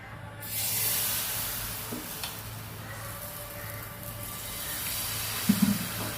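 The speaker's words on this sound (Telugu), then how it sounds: "పెనం వేడెక్కిందండి కొంచెం ఆయిల్ అప్లై చేసుకోవాలి" Oil sizzles on a hot griddle before a rava and wheat flour dosa is poured, giving a soft, steady hiss with a few faint scrapes and taps.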